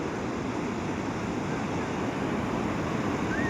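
Steady, broadband wash of surf on Shrivardhan beach on the Konkan coast, constant and fairly loud, with a roughness of wind against the microphone and no speech.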